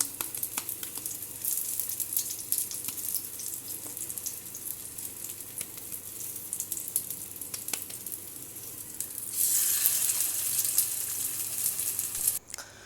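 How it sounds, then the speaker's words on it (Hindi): Chicken keema burger patties fry in hot oil over low to medium flame, a steady close sizzle and crackle that swells louder near the end, with no voices. "अब ये ऑयल गर्म हो गया है और अब इसमें डालने लगी हूँ मैं ये पैटीज़।"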